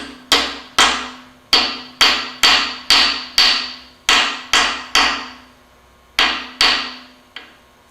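A machinist hammer strikes parts into an MGB engine block in a series of about a dozen sharp, ringing metallic taps, close and loud, uneven in spacing with a brief pause before the last few blows.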